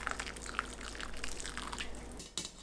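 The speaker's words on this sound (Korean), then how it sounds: "두부를 체에 담고 끓는 물 넉넉하게 부어줍니다." Boiling water is poured generously over tofu sitting in a sieve, a soft, steady splashing hiss throughout, ending with a brief louder splash.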